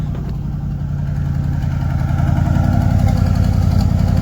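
Engine idling steadily with its exhaust cutouts open, routed through the turbos; a deep, somewhat muffled rumble that holds close and loud, rising slightly in intensity toward the end, with no talking.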